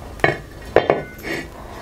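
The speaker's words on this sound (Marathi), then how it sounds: "आपण इकडे चुलीवरती तवा ठेवूया गरम करण्यासाठी।" An iron tava griddle is set down on a wood-fired clay stove, with a few close metallic clanks and knocks followed by a softer scrape.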